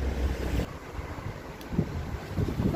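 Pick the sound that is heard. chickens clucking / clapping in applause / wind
wind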